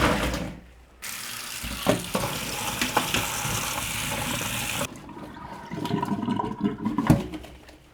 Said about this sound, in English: 30 mins, let's give them a rinse.